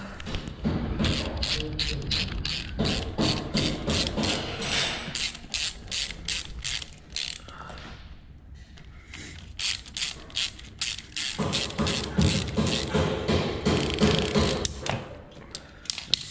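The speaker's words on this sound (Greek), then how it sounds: "Παίρνουμε το 10, ερχόμαστε και σφίγγουμε." A ratchet with a 10 mm socket tightens engine bolts on a carbureted Honda Innova motorcycle, giving loud, rapid clicking bursts close up, with a short pause around the middle before the clicking resumes.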